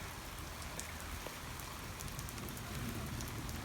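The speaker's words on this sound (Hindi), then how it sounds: "ये देखें बारिश शुरू हो गई है" Steady rain pours down at a cattle farm in Gadap, a constant soft hiss of drops on surfaces with no talking.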